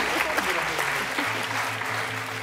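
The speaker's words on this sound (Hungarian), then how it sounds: "Tapsoljuk meg a tambura bőgöt külön!" Audience clapping in applause for a tamburica bass (tambura bőgő) at a Hungarian folk music competition, steady dense clapping from a crowd with a faint sustained bass tone under it.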